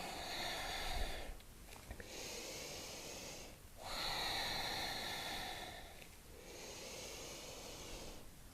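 Slow, deep breathing during a hatha yoga flow, long airy inhales and exhales in a steady cycle of about three breaths, close and soft with faint nasal hiss.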